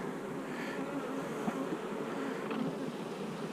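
Honey bees hum steadily around an opened beehive, a soft continuous buzzing swarm close by with faint handling noises and no talk.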